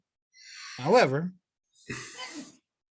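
A sharp sneeze bursts out, followed moments later by a second breathy, hissing sneeze, both close and loud with no talking.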